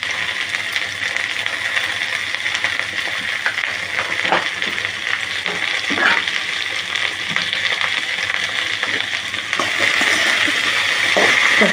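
Okra stir-frying in a pan with turmeric and salt, a steady crackling sizzle with scattered scrapes and clinks of stirring throughout, no voices.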